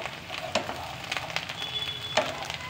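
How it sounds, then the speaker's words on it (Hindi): Eggplant frying in hot oil while being stirred in a pan: a soft, continuous sizzle with scattered scraping and a couple of light metallic clinks from the spoon, close and moderately quiet. "इसे अच्छे से चलाते हुए फ्राई करेंगे बैंगन को"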